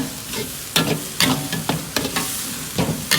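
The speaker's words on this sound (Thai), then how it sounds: "ผัดแห้งๆนะครับผัดต่อนะครับผม" Dry holy basil stir-fry tossed in a hot pan, with a steady sizzle broken by repeated sharp scraping strokes of a spatula, close and loud, no talking.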